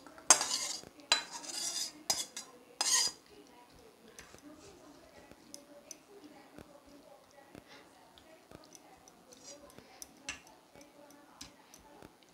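A pot of mixed-vegetable curry taken off the stove in a home kitchen, with a few louder scraping clatters of utensils at first, then sparse, light metallic clinks and taps.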